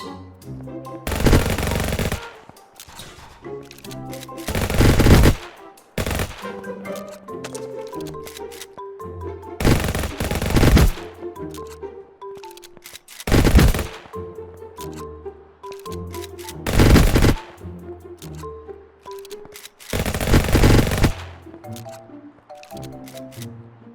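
Gunfire in the mobile game Vice Online, loud sharp shots recurring every few seconds in spaced bursts, with softer game noise between them.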